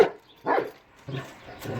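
A dog barks four times at close range, sharp separate yelps spaced about half a second apart, with no one talking over them.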